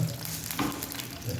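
Mustard seeds and urad dal crackle in hot oil for a Tamil murungai keerai paruppu kulambu tempering, giving a brief, close, steady frying hiss with small pops and no voices.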